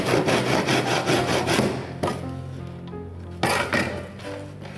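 Wood offcuts are cut with a saw or knife: quick rasping strokes in a steady rhythm, then a pause, then another burst of strokes. The sound is close and clear, and no one speaks.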